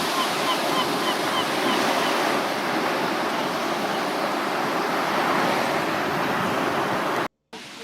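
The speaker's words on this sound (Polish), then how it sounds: "Jesteśmy nad morzem, a nad morzem mgła." Sea waves wash steadily onto a foggy Baltic beach, a continuous broad rushing surf with light wind on the microphone, then a brief cut near the end.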